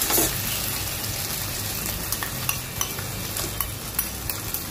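Onion and tomato masala sautéing in a pan for broccoli masala: a steady low sizzle with a few light spoon scrapes and stirring taps toward the end, fairly close and with no voices.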